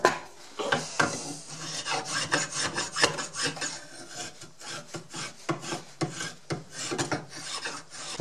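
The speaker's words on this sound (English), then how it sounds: "Another handy tool is a rasp." A 4-in-1 wood rasp files an axe handle in rapid rhythmic strokes. Each pass gives a close, coarse, scratchy rasp, repeated steadily throughout with no voices.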